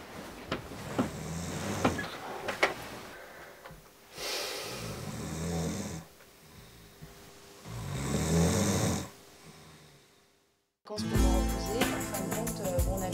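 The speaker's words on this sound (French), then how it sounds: "Il ronfle, je peux pas dormir." A man snores in a bedroom at night, with several long rasping snores in a slow rhythm, each followed by quieter breathing. A short silence comes near the end, then a louder burst of noise.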